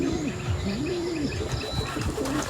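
Pigeons in a loft coo with low, rolling, repeated calls close by, alongside soft chirps and faint rustling of birds moving about.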